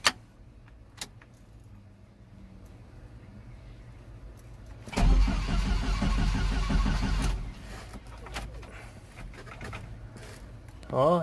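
A Comanche engine cranks over as the key turns during a rewiring build, a loud rapid churning that lasts about two and a half seconds and then stops without catching. Light clicks and handling noises fall before and after.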